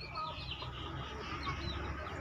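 Free-range backyard native chickens cluck steadily at moderate distance, a soft chatter of overlapping short calls from several birds, fairly quiet, with no clear talk over it.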